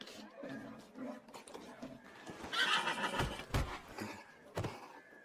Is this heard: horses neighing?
yes